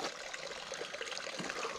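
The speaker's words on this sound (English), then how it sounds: "I'm not gonna listen to this running water all night." Water running steadily in a cabin, a continuous close splashing rush with no break and no voices.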